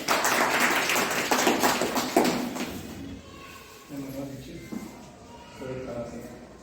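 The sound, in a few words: loud audience applause welcoming a speaker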